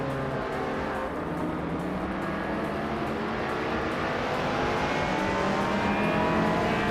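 Several race cars, including a 1970 Ford Mustang Boss 429, launching off the start line in a racing video game, a dense, loud roar of engines building steadily throughout with no voices.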